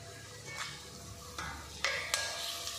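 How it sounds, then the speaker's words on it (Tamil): A Maggi stock cube frying in a pan on low flame during a Tamil cooking class, with a steady sizzle under a few scraping stirs from a spoon, ending on sharper clinks against the pan. "இந்த மேகி கியூபையும் போட்டு நல்லா ஃப்ரை பண்ணி விட்டுருங்க"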